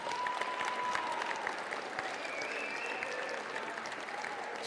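Steady applause at a fall awards ceremony for the boys' letter winners, many hands clapping continuously at a constant level with a few faint tonal sounds mixed in.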